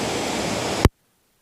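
Chitrakote waterfall roaring: a dense, steady rush of falling river water that cuts off abruptly partway through.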